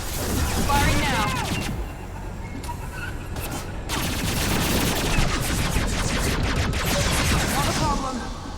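Sustained gunfire rattles through a firefight in Mass Effect 2, dense and loud, with continuous bursts under voices talking throughout.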